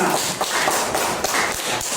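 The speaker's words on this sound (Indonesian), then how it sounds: "Oke, tepuk tangan." Students applaud a classmate in a classroom, a steady burst of clapping that fills the whole two seconds with dense, bright hand claps and no speech over it.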